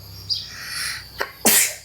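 A single sharp sneeze bursts out close by near the end, preceded by faint chirpy vocal sounds and a brief soft exhale in a quiet room.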